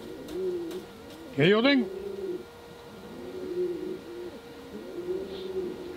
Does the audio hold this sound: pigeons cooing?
yes